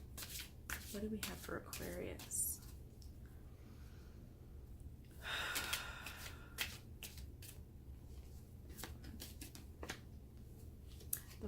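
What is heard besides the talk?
shuffling tarot cards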